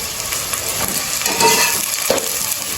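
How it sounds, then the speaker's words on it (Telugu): Chopped onions frying in hot oil in a pan for a homemade green chicken biryani, a steady close sizzle and crackle throughout with occasional stirring scrapes. "నూనె బాగా వేడైనాక ఎర్రగడ్డలు వేస్తానండి."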